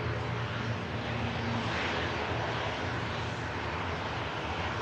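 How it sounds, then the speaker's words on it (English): A Canadian Air Force Hercules military propeller aircraft passes with a steady, broad engine roar, constant and fairly loud throughout with no talk. "It's a military aircraft,"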